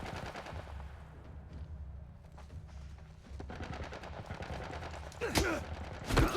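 Military turret gunfire in The Last of Us: rapid bursts of automatic fire rattle repeatedly, with heavier, louder impacts near the end, amid faint game background sound.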